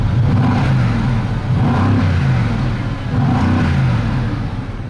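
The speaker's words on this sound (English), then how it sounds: "I've got the engine ticking over, so if you come outside with me briefly" Mercedes AMG GT-S engine idling, a loud, steady low rumble with slight rises in revs, close and alone with no talk.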